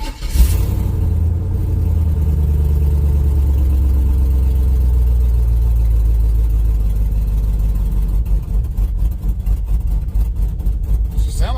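Loud, rumbling idle from an LS-swapped OBS truck engine, deep and continuous, with a slightly lopey, uneven pulse and a faint rise in revs near the end.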